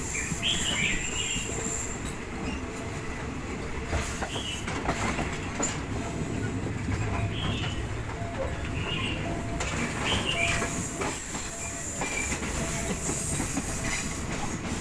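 A train in southern Thailand heading toward Thung Song junction is heard from on board, steady rumbling with repeated clickety-clack wheel beats on the tracks and faint bird calls, no talk.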